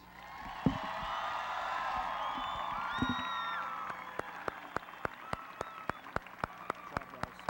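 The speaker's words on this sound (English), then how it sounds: "Let's give them one more round of applause." A high school graduation crowd applauds with cheers and whoops, a broad wash of clapping that fades after a few seconds, leaving a string of evenly spaced single claps.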